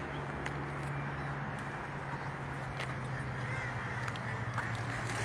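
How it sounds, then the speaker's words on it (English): Ducks quack in a busy bird-filled outdoor spot, short nasal calls popping out now and then above a dense, steady hum of background noise. "I just love that one duck. It sounds like it's laughing at you."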